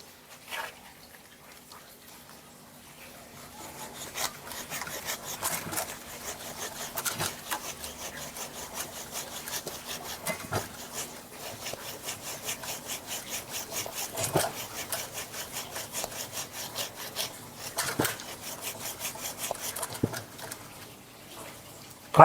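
A bent hand saw cutting through hard wood that has just been straightened with a hammer, giving steady rhythmic rasping strokes that repeat at a close, moderate level throughout.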